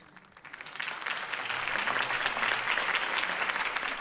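A crowd breaks into applause after a campaign speech in the Batman Telltale video game, starting softly and swelling into steady, dense clapping that holds strong to the end.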